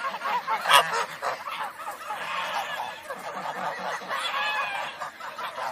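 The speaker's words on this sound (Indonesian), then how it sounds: "Wow, ini angsa teman-teman." Geese honk repeatedly in a noisy cluster, several birds calling over one another at close range with harsh, nasal cries.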